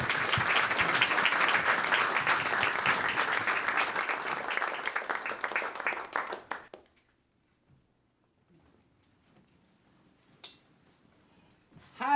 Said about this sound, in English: let's give them a hand. Let's see if we can clap.